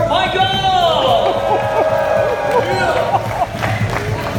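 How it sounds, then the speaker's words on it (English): Men in a live stage-show audience cheer and shout for a contestant, a loud, continuous crowd roar with whoops and calls sustained throughout, with some voices standing out above the mass. "Men, you are all going to be cheering for Michael over here."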